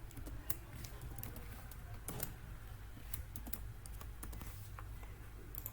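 Quick, light keystrokes on a computer keyboard as visit details are entered, steady clicking at a quiet level with no voice over it.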